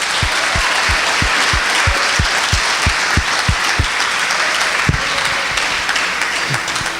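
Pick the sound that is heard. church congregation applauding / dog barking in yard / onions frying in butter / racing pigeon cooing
church congregation applauding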